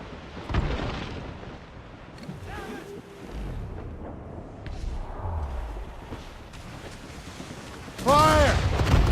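Cannon fire from a sailing warship in Assassin's Creed Rogue, heavy low booms rumbling through a busy naval battle, with shouted voices over it and a loud burst near the end.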